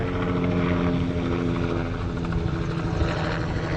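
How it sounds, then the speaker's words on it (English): A helicopter roars steadily overhead, its thudding rotor and engine drone loud and continuous throughout. "there's a helicopter going by"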